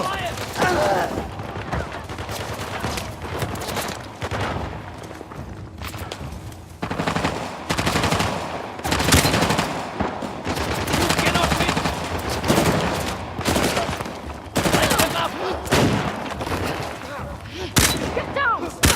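Sustained bursts of gunfire from a firefight in Uncharted: The Lost Legacy, loud and dense rapid shots with heavy impacts throughout, voices shouting in the mix.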